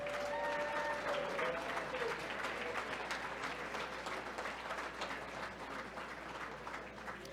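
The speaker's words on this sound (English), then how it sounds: "I'd like everyone to give everyone a big round of applause for all of their efforts" An audience at a political party results-night event applauds steadily, a dense wash of many hands clapping that starts strong and tapers slightly over several seconds, heard from within the room.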